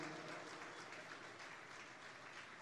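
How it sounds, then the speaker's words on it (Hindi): Audience applause welcoming a speaker to the stage at an anniversary celebration and mushaira, a steady dense wash of clapping from a crowd, fairly distant and even throughout. "तालियों की गूंज में उनका इस्तक़बाल किया जाता है।"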